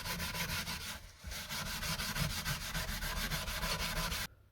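Metal socket set cases scrubbed with coarse wire wool and detergent, giving a continuous, rapid, gritty rasping back and forth, close up, with a brief pause near the start and an abrupt stop at the end.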